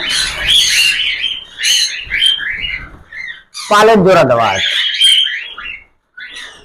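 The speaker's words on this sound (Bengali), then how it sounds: "পাখি ভয় পাচ্ছে, চিল্লামিল্লি করছে" A frightened pet cockatiel lets out a loud, harsh squawking burst midway, with lighter chirps scattered around it, while someone talks over the birds.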